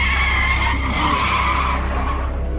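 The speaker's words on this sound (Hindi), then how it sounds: "अरुण ने बड़ी स्पीड से कार के ब्रेक दबा दिए।" A car's tires skid with a sustained, harsh screech lasting a couple of seconds, loud and close.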